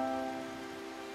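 Rain falls steadily over the mountains of Dominica, a continuous soft hiss that fades slightly, with sustained tonal hums layered on top and no voices.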